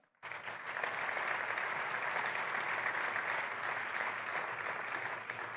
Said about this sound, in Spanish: pedimos un aplauso para ella también